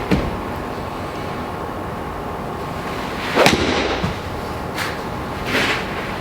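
A golf ball struck with a Ping i210 iron on an outdoor range gives one sharp crack near the middle, followed by a couple of fainter distant impacts from other golfers over a steady background hum.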